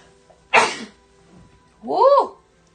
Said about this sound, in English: Oh, and I'm going to sneeze.